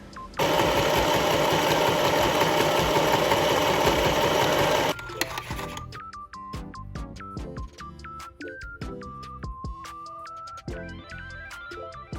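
A sewing machine stitching a thrifted garment runs in a loud, steady whir for several seconds, then gives way to quieter intermittent clicks and short mechanical bursts.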